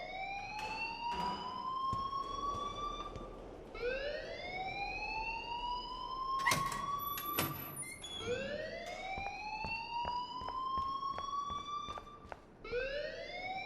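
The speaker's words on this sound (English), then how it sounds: "please turn off that alarm since that's your job" An electronic alarm wails in Life is Strange, repeated rising sweeps roughly every three seconds, loud and sustained with sharp clicks scattered between them.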